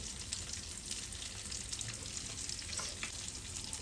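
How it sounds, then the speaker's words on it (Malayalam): Coconut oil goes into a heated pan while cooking fish masala, producing a quiet, continuous hiss and spatter that holds steady throughout, with no voices. "ചട്ടി ചൂടായിട്ടുണ്ട് കുറച്ച് വെളിച്ചെണ്ണം കൂടെ ഒഴിച്ചു കൊടുക്കണേ"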